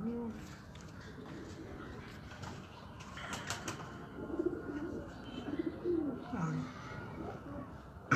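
Pigeons coo softly among a flock kept by a pigeon fancier in Faisalabad, with low burbling calls scattered over a busy background and a voice talking at times.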